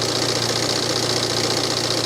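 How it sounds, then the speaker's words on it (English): A diesel engine idles steadily after its EGR valve was removed, a close, even mechanical rumble with a faint rhythmic knock running continuously and alone. "Engine seems to be running nice and smoothly."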